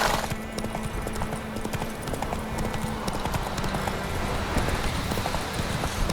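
Hooves of the horse Roach beat a steady, rapid galloping clip-clop in The Witcher 3, continuous and moderately loud over a low game backdrop.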